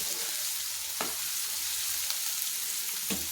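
Onions sauté in a pan over a medium flame for a potato kurma, a dense and even sizzle broken by a couple of soft stirring scrapes, heard close with no voices.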